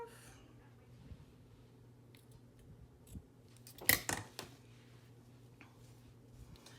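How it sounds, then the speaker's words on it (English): Scissors trimming lace for a charm tassel: a few quiet, scattered snips, then a louder cluster of two or three close crisp cuts, over a faint steady background hum with no talking. "And then I will trim this off."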